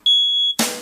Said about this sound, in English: you're not supposed to use a smoke detector when you're done cooking the eggs